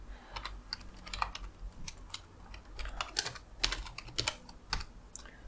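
Someone types a command on a computer keyboard, the close, crisp clicks coming in irregular bursts of quick keystrokes with brief pauses between.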